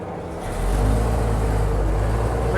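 A 1941 American LaFrance fire truck drives along with a deep, loud, steady engine rumble that swells in the first half-second and then holds even and close.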